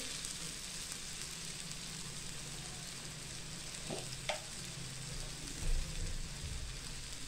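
Dried bombil fish being stirred into a sizzling masala in a pan, a steady, close frying hiss running throughout with a couple of brief scraping stir sounds partway through.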